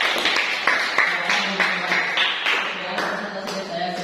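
A classroom of students clapping for a group presentation, a lively, uneven patter of many hands at close range, with a few voices murmuring underneath.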